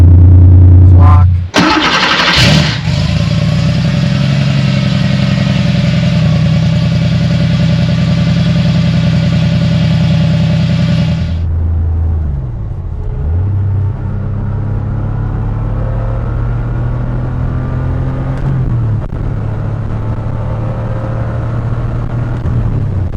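A 1987 Porsche 911 Carrera engine cranks briefly and fires, revving high for several seconds before settling into a loud, steady low idle rumble heard close up.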